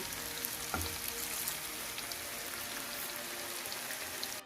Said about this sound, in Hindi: व्यूअर्स, ये देखें कितने अच्छे से फ्राई हो रहे हैं, इसका गोल्डन सा कलर आ रहा है।